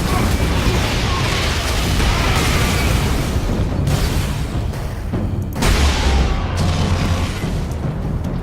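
Grenades explode in the Warhammer 40,000: Space Marine video game, a dense wall of heavy booms and rumbling blasts layered with battle noise, loud and continuous with a few sharper bursts near the middle and end.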